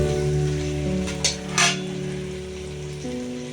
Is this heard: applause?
no